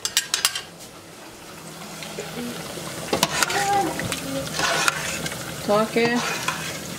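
A spoon stirs eggplant qeema stew made with lamb and split peas in a simmering pot, giving sharp clanks and scrapes against the metal over a low sizzle, with a single brief spoken sound.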